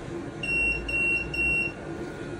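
A Konnected SmartThings home alarm gives entry beeps after a garage door is opened: three loud, high electronic beep pulses in quick succession, close and alone.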